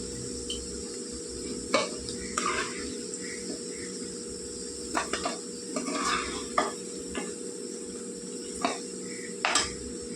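Paneer pieces sizzle in hot oil in a pan, a steady fry hiss under a high whine, with occasional clinks and scrapes of stirring.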